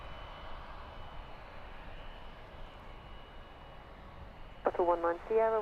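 A British Airways shuttle airliner on approach to Heathrow runway 09 left makes a steady, distant engine roar. Near the end, a voice on air traffic radio breaks in over it.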